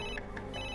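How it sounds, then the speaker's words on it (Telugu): A telephone rings in a film scene, short bright electronic ring bursts repeating quickly over a low, steady background hum, with no one speaking. "ఆ అమ్మాయి ఆఫీస్ నుండే ఫోన్ సార్"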